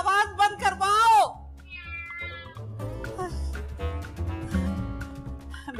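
A cat gives a few loud, drawn-out, wailing meows in a room, with people talking in between.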